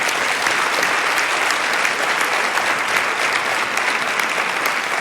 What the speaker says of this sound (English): To all of our speakers, one more great round of applause.